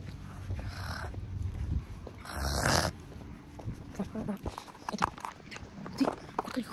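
A dog barks and growls a few times amid outdoor background noise, with some scuffling sounds and voices nearby.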